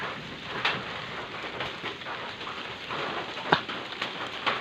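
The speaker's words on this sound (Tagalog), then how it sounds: "Sobrang init pero umaambon na. Umuulan." Rain falls on a farm in hot April weather, a steady close hiss with scattered louder drops and taps spiking over the wash, no talking.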